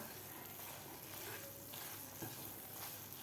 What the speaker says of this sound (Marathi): आपल्याला आणखीन दोन मिनिट हे सारण परतून घ्यायचं आहे